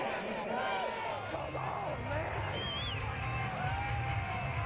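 Stadium crowd in Madden NFL 22 booing after a penalty flag, a dense sustained roar of voices, steady and loud, with whistles and shouts rising over it throughout.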